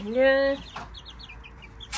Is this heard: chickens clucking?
yes